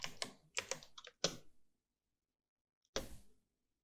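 Typing the word dark into a design app: a short burst of soft keyboard-like taps in quick succession, a pause of silence, then one final tap, close and quiet.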